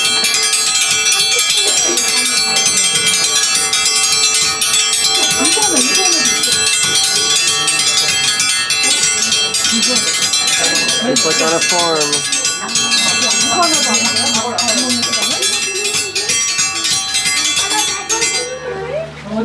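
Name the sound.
triangle rung as feeding dinner bell for monkeys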